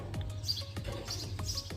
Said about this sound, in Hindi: और साथ में पंछियों का आवाज़